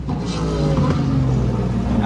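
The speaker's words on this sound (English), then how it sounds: "It's going to get kind of loud because the WeatherTech cars are out on track right now." WeatherTech race cars run on track at Laguna Seca during qualifying day, producing a steady, loud engine drone with rising and falling pitch.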